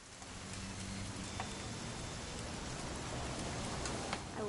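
Continuous rain pours in a constant wash of noise, with scattered drop ticks and faint rustling, in What Remains of Edith Finch. The downpour stays level throughout and no one speaks.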